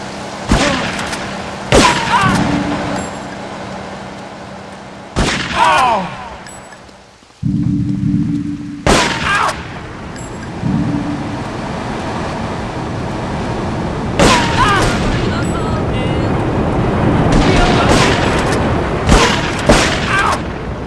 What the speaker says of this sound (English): As you can see how powerful the shotgun is